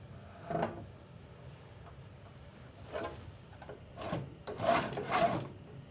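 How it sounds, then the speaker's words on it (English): Material is rolled back and forth through the rollers of a CLN 2010 machine, producing a few soft, rasping rolling sweeps and rubbing scrapes, close and fairly quiet, with louder passes toward the end. "Roll the material back and forth and make sure you have good contact with the return."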